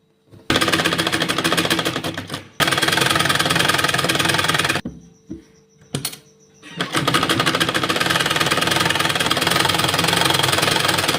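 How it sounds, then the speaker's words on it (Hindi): A sewing machine stitches a shirt in loud, close, rapid chattering runs, broken by a brief stop and a quiet gap with a short burst before it resumes steadily. "अब हम यहाँ से सिलाई लगाएंगे।"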